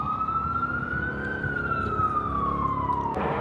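Wailing emergency vehicle siren on a New York City street, a single rising and falling tone sweeping steadily over a constant rumble of traffic, fairly close and loud, ending with a short burst at the close.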